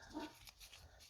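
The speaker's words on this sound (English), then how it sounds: "Sorry for the dog barking." A dog barks faintly in the background, one or two short yips in a quiet room.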